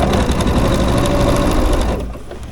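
A sewing machine stitches straight down a quilted sweatshirt sleeve, running at a steady, fast rhythmic chatter close by and loud, then slowing and easing off near the end, with no talking.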